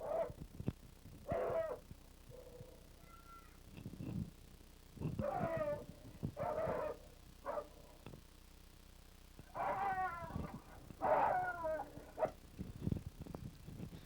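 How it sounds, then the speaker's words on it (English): Hunting dogs bark and yip in short, loud bursts at a cornered wild boar at the edge of a mountain clearing, with whimpers and quieter gaps between the volleys. "Now the dogs have picked up another boar that was on the edge of a clearing"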